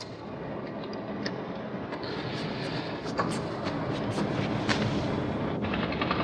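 Vela pulsar radio signal rendered as sound, inside a supernova remnant: a dense, steady hiss and rumble like rushing static, with faint irregular clicks scattered through it.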